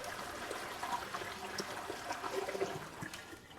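Water from a pitcher pours into a mead jug in a steady, gurgling stream that runs continuously and moderately close, with no talk over it.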